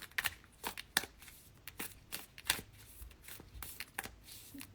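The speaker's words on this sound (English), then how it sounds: "These cards, like, they don't want to shuffle." A deck of cards is shuffled close up, giving a run of quick riffling bursts and soft slaps repeating at an uneven rhythm, quiet and without talk.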